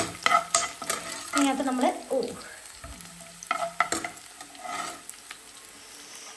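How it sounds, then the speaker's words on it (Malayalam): Fenugreek, mustard seeds, cumin, shallots and curry leaves fry in hot oil for a Kerala curry tempering, with crackling sizzle and stirring scrapes in uneven bursts, close by and fairly quiet, and a brief voice speaking. "ഉലുവ, കടുക്, ജീരകം, ചെറിയുള്ളി, കറിവേപ്പില ഇട്ടിട്ട് വറവിടുകയാണേ"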